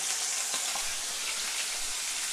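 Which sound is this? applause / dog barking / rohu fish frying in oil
rohu fish frying in oil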